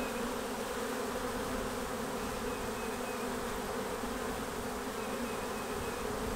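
A captured honey bee swarm, moved miles from its home bee yard, fills the air with a dense, steady, close buzzing of many bees that holds unbroken throughout.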